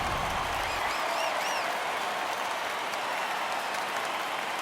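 A home crowd cheers in an MLB baseball video game between the Texas Rangers and the Houston Astros: a loud, continuous roar of applause and cheering with a few whistles rising above it, steady throughout.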